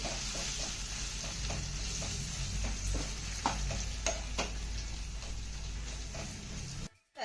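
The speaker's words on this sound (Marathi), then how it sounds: "आता या सगळ्या मसाल्यांसोबत ही भेंडी आपल्याला दोन ते तीन मिनिटं चांगली परतून घ्यायची आहे" Okra sautéed with spices in a pan: an even, close sizzle with regular light stirring taps that runs steadily and cuts off abruptly right at the end.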